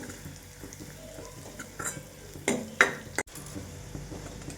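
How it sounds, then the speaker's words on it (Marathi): Peanuts roasting in hot oil for a mixed spinach vegetable dish, stirred with a spoon in a pan: soft frying crackle with a few scraping clinks and a sharper knock near the end, close and alone. "शेंगदाणे चांगले तेलात भाजून घ्यायचे।"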